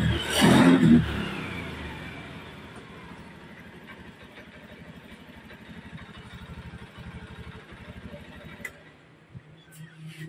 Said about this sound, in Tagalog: umandar na yung motor ni boss.